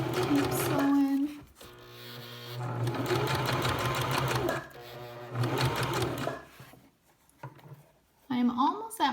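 A sewing machine stitching a rope bowl runs in loud, close bursts of rapid mechanical stitching, stopping and restarting several times with brief pauses between runs.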